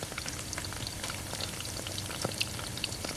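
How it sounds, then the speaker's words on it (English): Sesame-coated octopus pieces deep frying in hot oil give a soft, steady crackling sizzle with scattered pops, fairly quiet and with no voices. "So you deep fry until they turn a brown color"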